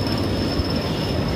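Bobcat roller coaster train at Six Flags Great Escape rolling into the station during Fright Fest, a steady close rumble of wheels on track with a faint high squeal running throughout.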